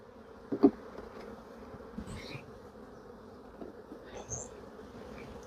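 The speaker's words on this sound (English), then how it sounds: "So all the bees seem to be in the top box" Honey bees buzz around an open hive during a brood box inspection, a steady low drone with a few louder passes as individual bees fly close to the listener.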